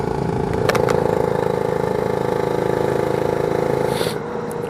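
A Lambretta scooter engine fitted with a BGM PRO MZ30 exhaust runs at a steady, muted putter, close and continuous with a mellow tone and a brief clatter near the start.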